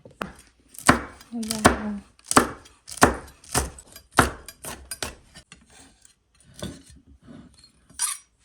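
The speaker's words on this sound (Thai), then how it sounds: "ก็จะมาหั่นพริกนะ" A knife chops chili peppers rapidly on a cutting board, sharp regular thuds that slow and soften toward the end.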